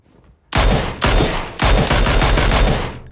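Gunfire in the video game PlayerUnknown's Battlegrounds: three loud, close bursts of rapid automatic shots separated by brief pauses, with no talking.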